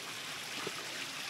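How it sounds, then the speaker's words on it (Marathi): Water trickles and flows across a muddy, slippery trekking trail on the way to a hill fort, a soft steady babble, faint and close, with no talking. "पाणी चालू आहे, जरा जपून"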